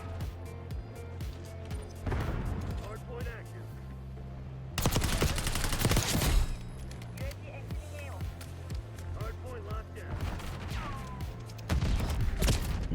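Rapid submachine gun fire in the first-person shooter Black Ops 6, close-quarters bursts with clattering shots, loud and near, over game ambience and footsteps with short pauses between volleys.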